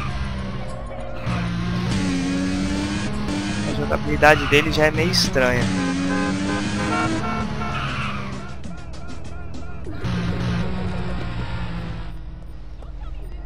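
A hamburger-shaped car drives in GTA San Andreas, its engine droning steadily with tires squealing and skidding in bursts, while someone talks over it throughout.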